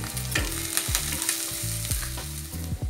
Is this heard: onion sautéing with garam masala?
yes